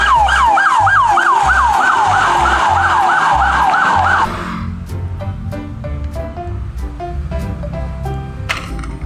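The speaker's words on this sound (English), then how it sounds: "Nice police car." A toy police car's electronic siren wails loudly in rapid repeating sweeps for about four seconds, then cuts off, leaving lighter electronic tones and clicks.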